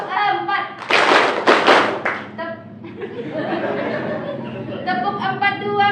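A group doing the tepuk 4 clapping pattern twice at a training session: a loud rhythmic burst of many hands clapping, then chatter, light laughter and talk.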